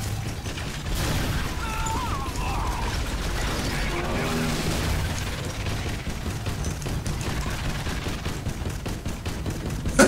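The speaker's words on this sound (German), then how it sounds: "Der Geschützturm macht weiterhin das Ding schön unter Beschuss." Automated turret in the video game EDF Insect Armageddon firing at an enemy, producing rapid mechanical rattling bursts and clanking over a dense game soundscape, loud and continuous, with a voice talking in the background.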